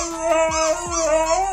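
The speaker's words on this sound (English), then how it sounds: "I always forget that huskies are insanely vocal dogs" Husky howling close by, long wavering tonal cries that rise and fall in pitch, with short yips and whimpering slides woven between the howls.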